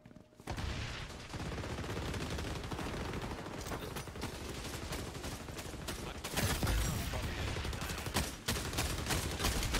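Nearly continuous gunfire in the XDefiant shooter game, rapid automatic bursts rattling densely from start to finish, fairly loud and close, with no pauses.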